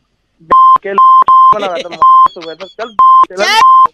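Repeated steady electronic beeps of a disconnected phone call, short tones at an even rhythm, alternating with a voice talking between them.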